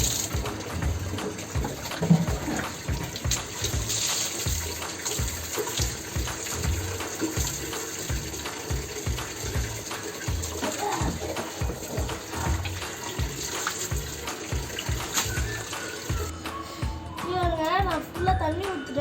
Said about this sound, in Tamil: நான் ஃபுல்லாக தண்ணி ஊற்றுட்டேன்.